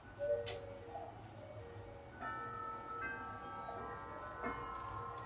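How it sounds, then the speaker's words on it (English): A 206 cm walnut grandfather clock with a tubular bell triple chime and moon phase ticks steadily while resonant bell notes ring out and linger, close and clear, with no talking. "And the clock commences automatically."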